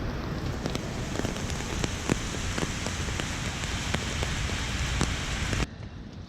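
Rain falls steadily in a small city park with a statue, a dense hiss dotted with sharper drip taps, then drops to a quieter wash just before the end; no voices.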